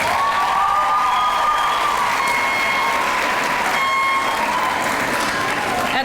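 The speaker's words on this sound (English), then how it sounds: "so let's give her a round of applause." Sustained, dense applause from a large audience at a sixth-grade school graduation ceremony, steady and loud for the whole stretch, with a few high cheers or whistles rising above the clapping.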